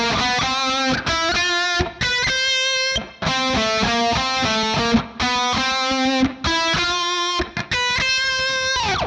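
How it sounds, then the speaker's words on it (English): Distorted electric guitar plays a climbing lick in repeated bursts, loud and gritty, with brief gaps between phrases and no voices. "Now this guitar's climbing lick is going to sound like this."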